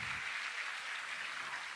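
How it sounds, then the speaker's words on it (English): Applause from a seated audience at a formal session with a Mars Orbiter Mission project director at a hospital society event, a steady, dense wash of clapping heard from a distance, fairly faint and without talk. "A big round of applause, ladies and gentlemen"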